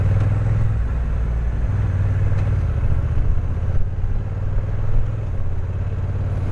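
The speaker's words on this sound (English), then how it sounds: "The bike is rattling, at least in the standard drive mode." A 2023 Honda NT1100 DCT motorcycle idles and runs in standard drive mode with a steady, close, low engine rumble and faint mechanical clatter throughout, with no talking.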